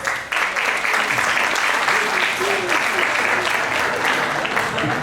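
A live audience at an evening talk-show café event gives loud, sustained applause lasting the whole stretch, with clapping dense and even, as a guest named Danilo is called up; faint voices mix in under the clapping.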